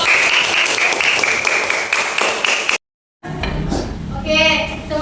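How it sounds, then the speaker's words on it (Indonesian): Children in a classroom science session on gravity and parachutes give loud, brisk applause that cuts off abruptly, followed by a voice talking over the noisy room. "berikan tepuk tangan"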